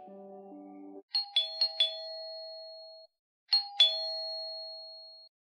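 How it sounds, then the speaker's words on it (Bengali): A doorbell sound effect for an audio drama: a low two-note electronic chime, then a bright multi-strike ding-dong that rings out, followed after a pause by another ringing strike, clean and isolated. "কলিং বেল বাজতেই চিন্তার রেশটা কেটে গেল"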